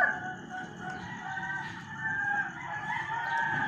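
Several roosters and chickens crow behind a house in the dark before dawn, the drawn-out calls overlapping at a moderate distance over a steady background hum, with no talking.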